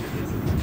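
A Montréal Metro train runs between stations on a Saturday-night ride from McGill toward Acadie. It gives a low, steady rumble of wheels and motors from inside the car, with no clear speech.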